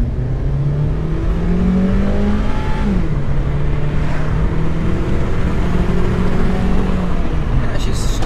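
A car's engine revs under load during an acceleration pull while it is being diagnosed for running rich, a loud steady drone whose pitch slides and climbs, with heavy road and wind rumble beneath.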